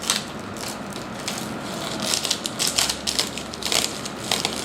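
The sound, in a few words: loose bicycle parts rattling as they are shaken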